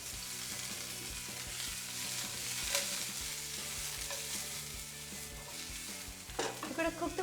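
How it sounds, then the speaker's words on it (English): Mushrooms fry in hot olive oil in a pan, giving a constant loud sizzle and crackle with faint rhythmic stirring underneath, and a few sharper clinks of a utensil near the end. "once it's hot, I'm adding my mushrooms to it"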